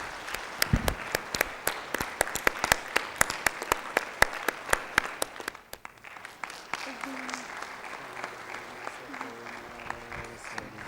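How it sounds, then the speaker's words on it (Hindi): Audience at an inauguration ceremony claps loudly, crisp rhythmic claps for several seconds that give way to a softer, scattered patter of applause with a voice faintly beneath. "हम सब कर कमलों से बहुत जोर से ताली बजाकर और धन्यवाद देना चाहते हैं।"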